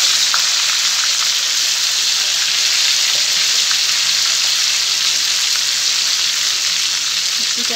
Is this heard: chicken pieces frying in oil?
yes